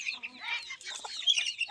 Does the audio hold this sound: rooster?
yes